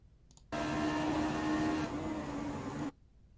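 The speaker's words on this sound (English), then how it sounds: "Watch the engine sounds and the reaction from the car." Racing car engine in a sim racing replay, a steady loud whine and drone that cuts in abruptly, holds for about two and a half seconds with a slight shift in tone partway, then stops dead.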